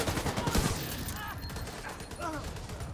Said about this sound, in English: Oh, the minigun's up on top now.